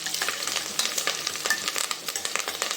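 Onions and curry leaves frying in a pan, a steady bright sizzle broken by crackles and the scrape of stirring, close and continuous with no voices.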